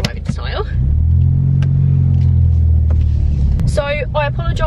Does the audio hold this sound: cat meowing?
no